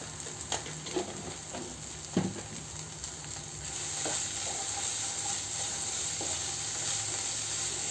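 Onions and turmeric frying in a little oil for a crab curry masala, a steady close sizzle broken by a few scraping stirs of the spoon.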